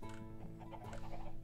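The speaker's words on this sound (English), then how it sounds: "Chicken farm, we have a lot of chickens now." Chickens on a Minecraft chicken farm in the video game, a quick run of soft clucks and small chatter over a steady low background, faint and short.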